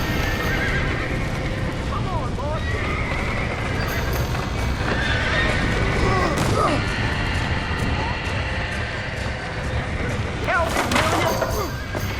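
Horses whinny repeatedly amid a busy, noisy scene in the video game Red Dead Redemption, with clattering hooves, crashing debris and people shouting over it all.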